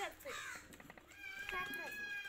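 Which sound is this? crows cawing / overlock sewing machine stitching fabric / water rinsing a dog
crows cawing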